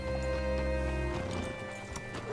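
Horse hooves clip-clop with a brief whinny in Red Dead Redemption 2, close and steady over layered in-game ambience and music, with a soft shift in texture midway through.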